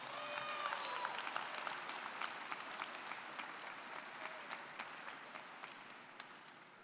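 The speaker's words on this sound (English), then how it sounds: "give a round of applause to their parents, teachers, family, and friends" Graduating seniors of the Mehlville High School Class of 2020 applaud at their commencement ceremony, a steady wash of many hands clapping that sounds fairly distant and soft, slowly thinning toward the end.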